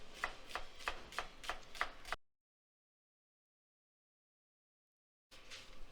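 Quick, evenly spaced knife chops on a cutting board, finely dicing vegetables for Gavurdağı salad, about six strikes, then the sound cuts to silence before a faint noise returns.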